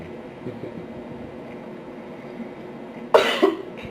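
A single sharp, loud cough bursts out near the end after a few seconds of quiet room murmur and low background noise.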